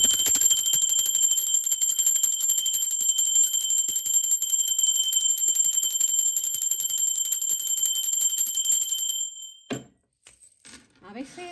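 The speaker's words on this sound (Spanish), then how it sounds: "A veces la campana es como que más larga, otras veces es menos." A bell rings in one long, sustained, bright, high metallic tone lasting about nine seconds, then cuts off abruptly, leaving a few faint soft sounds.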